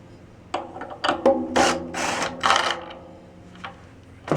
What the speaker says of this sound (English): Always take these nuts off of here.